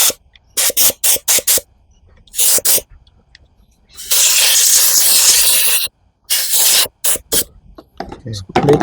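Aerosol cleaner sprays onto Victa Powertorque VE40 lawnmower engine parts in short hissing bursts, with one long continuous spray in the middle and more quick blasts after it, close and loud.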